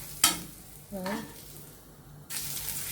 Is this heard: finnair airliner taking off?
no